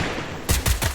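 Shooting video game gunfire, with the game's guns firing in a quick burst of three or four loud, punchy shots in the second half after a stretch of softer game noise, no voices present.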